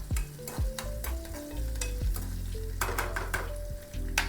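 Fenugreek seeds and urad dal sizzling in hot oil in a pan while being stirred, with frequent sharp scrapes and clinks of a metal spoon against the pan over a steady frying hiss.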